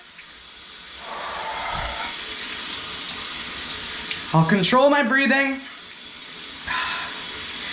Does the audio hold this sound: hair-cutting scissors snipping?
no